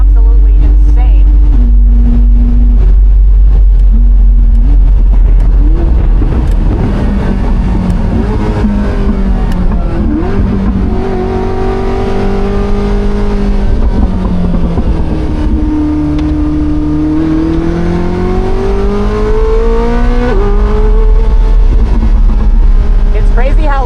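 A Koenigsegg Jesko Attack engine revs and accelerates continuously, its pitch climbing and dipping through gear changes, loud and close throughout.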